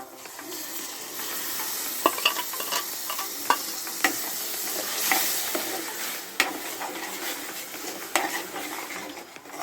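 Ground tomato and chickpea paste being stirred into a frying masala for chana masala, with steady sizzling and repeated scraping clinks of a spoon against the pan, close and alone with no talk.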